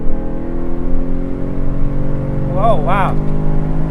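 A Chevrolet TrailBlazer SS, a 400 hp SUV, accelerates hard with a steady droning engine note that builds in pitch, heard from inside the cabin while people react with excited exclamations.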